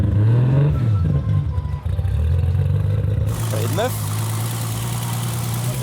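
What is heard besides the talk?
Volkswagen Golf engine starting and idling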